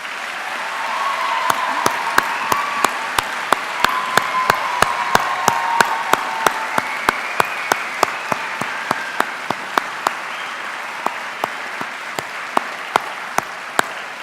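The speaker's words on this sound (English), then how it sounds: "Graduates, would you join me in a round of enthusiastic applause" Applause from the audience at a Swinburne graduation ceremony, heard as a steady wash of clapping punctuated by sharp, evenly spaced claps that keep a regular beat throughout.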